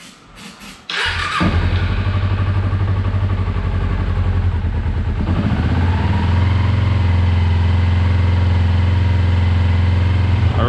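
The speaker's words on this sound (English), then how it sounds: "This bike is running on its own power." A motorcycle engine catches after a short cranking clatter and then idles loudly and steadily on its own, with a rhythmic, close-up chug.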